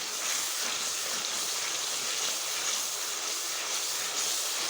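Yogurt poured into a hot white chicken karahi gravy hisses and sizzles steadily in the pan, a close, continuous bright frying sound with no voices.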